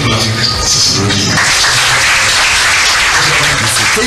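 Audience applause fills a ceremony hall for an African bank where generators are being presented, a dense, steady wash of clapping with voices mixed in throughout.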